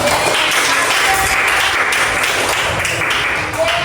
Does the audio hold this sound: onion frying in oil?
no